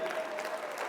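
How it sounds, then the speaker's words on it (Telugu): An audience at a business meet claps for a guest in a hall. Quiet, brief, scattered applause is heard at a distance. "రండి ఒకసారి క్లాప్స్ కొట్టండి మా ఫ్రెండ్కి"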